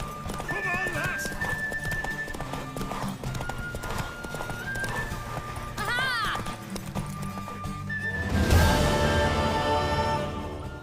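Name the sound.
horse galloping in the video game The Witcher 3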